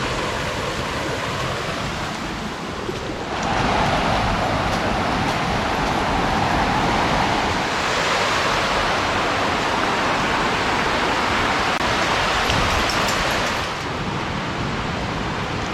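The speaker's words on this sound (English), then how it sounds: "I believe this is going to be Dix Creek Falls." Dix Creek Falls, a waterfall near the Chattooga River, rushes as a steady broadband roar that swells louder for most of the stretch before easing back, with no speech.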